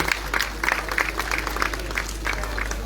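Audience applause for children modelling a collection at a staged show, steady dense clapping throughout with a lively crowd wash, no clear speech over it.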